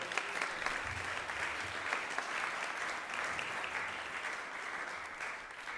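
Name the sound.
audience applause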